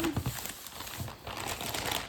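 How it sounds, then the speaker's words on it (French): Paper packaging of a crochet-along kit crinkles and tears as it is unwrapped close by, with irregular rustling bursts and no talking. "On va retirer le papier."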